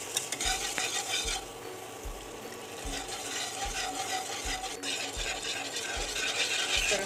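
A spoon stirs white sauce in a pan as milk is added a little at a time, making steady rhythmic scraping strokes about twice a second over a soft background sizzle.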